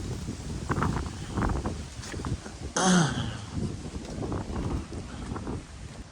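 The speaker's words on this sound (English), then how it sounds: "it's probably extremely windy, and I apologize" Strong wind buffets the microphone in low, rumbling gusts, with a short harsh burst partway through.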